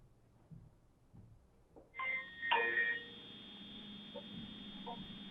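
A telephone rings during a Hindi television news debate, with bright electronic tones sounding for about a second midway through, set against a quiet studio background and low voices.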